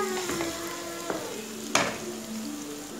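Halved onions sauté in hot oil in a pan for a simple Easter chicken curry. A close, steady sizzle is broken by a few sharp scrapes of stirring.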